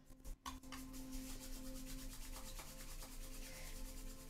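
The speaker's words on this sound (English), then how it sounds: "And rubbing the palms together and the soles of the feet together." Palms rubbed briskly together to warm them during a Kundalini yoga class, giving a steady, soft, continuous rasping friction with a faint tonal hum behind it and no talking.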